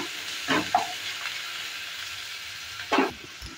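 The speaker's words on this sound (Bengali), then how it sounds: "পেঁয়াজটা দেওয়ার পরে ভালো করে আবারও নেড়ে চেড়ে নিচ্ছি" Chopped onion frying in hot mustard oil while being stirred, a soft steady sizzle broken by two louder scraping stirs near the start and end.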